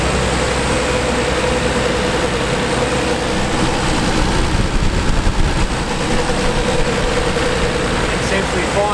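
A Nissan Skyline R33 engine idles after new injectors were fitted, a steady loud low rumble holding evenly throughout with no revving.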